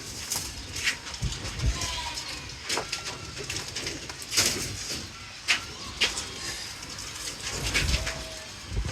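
Pigeons cooing in a loft, soft repeated coos and rustling mixed with background noise, at moderate distance, while someone talks over them.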